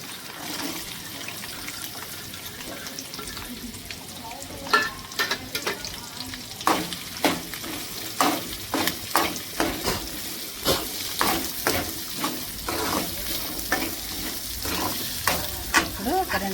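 Chopped onion sizzles in a pan for an egg and dried bombil fish curry, with a steady frying hiss broken by frequent scraping, clattering stirring strokes that grow busier as it goes on.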